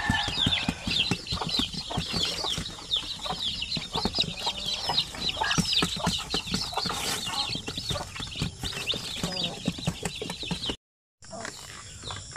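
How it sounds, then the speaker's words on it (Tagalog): A mother hen with many chicks on a Philippine farm in rainy, muddy conditions, steady close clucking mixed with continuous high peeping of chicks, briefly cut out near the end. "Ang dami niyang sisiw dito."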